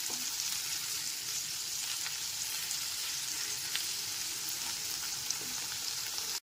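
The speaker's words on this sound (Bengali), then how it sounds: "টমেটো কুচিটা পেঁয়াজের সাথে ভেজে নেব।" Chopped tomato fries with onion and green chilies in hot oil, a close, steady sizzle with faint stirring scrapes, ending abruptly.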